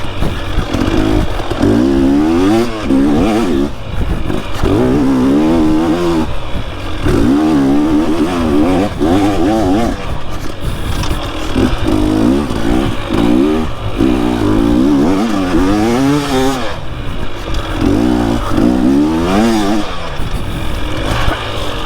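A motorcycle engine on the move revs up and down in repeated surges, its pitch climbing and falling through each throttle burst, loud and close over steady wind and road noise.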